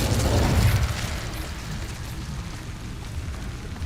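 Incendio fire spell going off in Hogwarts Legacy, a deep booming burst of flame at the start that rumbles and fades into a steady low roar, with no talking.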